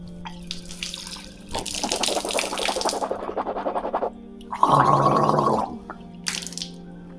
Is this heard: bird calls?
no